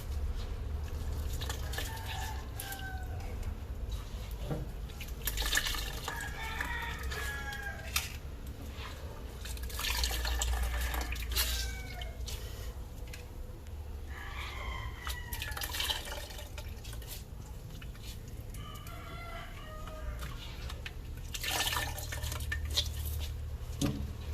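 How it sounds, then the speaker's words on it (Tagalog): Grated coconut is wrung out by hand over a bowl to press out its milk for binignit, giving wet squelching, dripping liquid and occasional clinks of pots and utensils throughout, with steady low kitchen background noise. "Pigain lang natin ng mabuti para lumabas ang katas."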